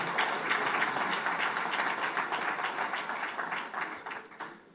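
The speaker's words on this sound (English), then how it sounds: "Please, a round of applause for him." Audience applause at a bank's export expansion seminar for a central bank deputy governor, dense and steady across the room, gradually tapering toward the end.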